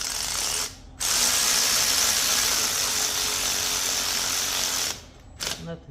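Ratchet snugging an alternator bolt on a 2013 Hyundai Elantra: a close, loud burst of rapid clicking runs for about four seconds between short pauses, with brief shorter clicks near the end.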